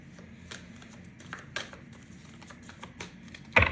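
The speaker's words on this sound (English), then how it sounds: "We're going to shuffle up the deck a little bit first before we get started." A tarot deck being shuffled, soft riffling and scattered crisp flutters, ending in a louder burst as the cards snap together.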